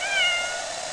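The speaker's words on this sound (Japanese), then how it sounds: "バラバラになった鎧の中から現れた緑の猫が目を光らせて消えた。" A single short, clear cat meow plays alone in the horror video game Otogirisou.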